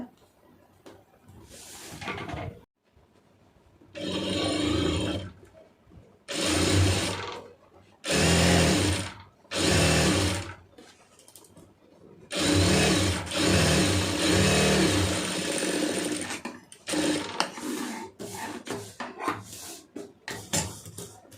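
A sewing machine stitches the lining of an aari blouse in bursts, whirring loudly and close in repeated runs of one to three seconds separated by short pauses, then a run of quicker, choppier stitching toward the end.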